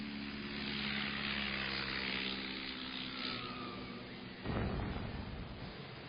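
A 1930s bomber's propeller engines drone in a steady, throbbing hum for several seconds before giving way to a rougher, broadband roar.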